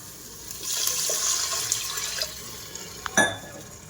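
Water is poured into a hot pan of spices, producing a gurgling, splashing pour that swells and fades over a few seconds, with a sharper hissing splash near the end and no voices.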